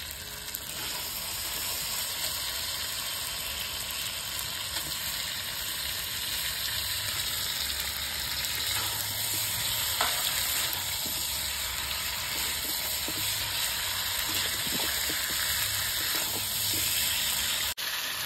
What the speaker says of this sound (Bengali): এর সঙ্গে এবার আলুটা দিয়ে একটু কষাবো